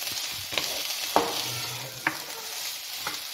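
Ingredients for matar chaat, a spiced pea snack, stirred in a pan, with a few distinct scrapes and clacks of the spoon over a low, steady background hiss.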